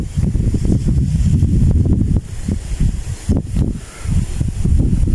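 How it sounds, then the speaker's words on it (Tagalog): Strong outdoor wind at a house in Casa Isabel, Santo Tomas, Batangas, roaring steadily with broadband gusts and rustling through the whole stretch, loud and close to the microphone with no talking. "Kung naririnig nyo po malakas ang hangin, lalo na po sa gabi dito ay presko po ang panahon"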